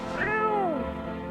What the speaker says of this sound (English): Kitty! Pick up the cat.